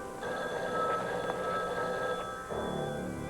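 A telephone rings indoors in a soap opera scene, a steady, sustained electronic trill at moderate volume continuing for several seconds over a soft room hum, with no one speaking.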